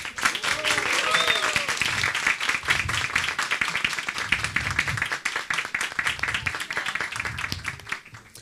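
An audience claps continuously at a Brazilian commemorative event, dense applause carrying steadily for several seconds before thinning toward the end, with a few faint voices beneath.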